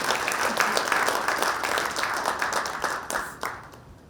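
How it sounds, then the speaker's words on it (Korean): Loud, sustained applause from an alumni gathering at a high school centennial event, welcoming an education official; dense clapping fills the room steadily and begins to thin near the end. "힘찬 박수로 환영해 주십시오"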